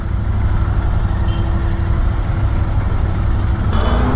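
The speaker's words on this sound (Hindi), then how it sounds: "पुणे का ट्रैफिक" Busy city road traffic in Pune, with steady rumble of trucks, buses and cars passing nearby and a brief air-brake hiss near the end, continuous and fairly loud with no voices.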